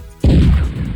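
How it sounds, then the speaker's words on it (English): A military tank fires a single sudden, loud boom that drops into a heavy low rumble and fades over the following second, with no voices. "Tank."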